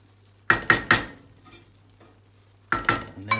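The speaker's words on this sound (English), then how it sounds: "Just give everything a quick stir around." A spoon stirs rice and herbs around a pan taken off the heat, making two clusters of three sharp metallic scrapes and clinks with a quiet pause between them, close by and with no talking.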